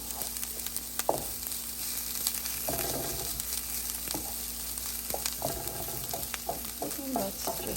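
Garlic sizzling and frying in a hot pan for a beef goulash, a steady crackling hiss broken by a few louder stirring scrapes, close and continuous with no talking.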